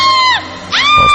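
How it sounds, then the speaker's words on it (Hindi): A woman in a radio horror drama screams suddenly and loudly, two sharp shrill cries close up in quick succession. "अचानक बहुत जोर से चीखी"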